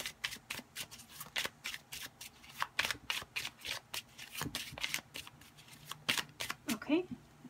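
A deck of playing cards is shuffled repeatedly, giving close, crisp riffling bursts in an uneven rhythm with quiet gaps between them.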